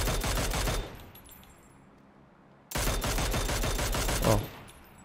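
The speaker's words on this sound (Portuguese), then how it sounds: "E aí você vai mirando e atirando, ó." In PUBG, automatic gunfire rings out in two long rapid bursts separated by a quiet pause, loud and close, with no voices.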